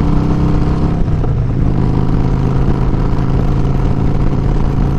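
A motorcycle cruises up a highway with a rider and pillion passenger, its engine a loud, steady drone mixed with rushing road noise throughout.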